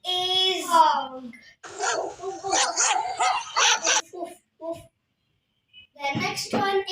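A dog barks and yips in a series of short, loud bursts, with a voice speaking nearby between the barks.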